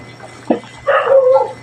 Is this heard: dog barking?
yes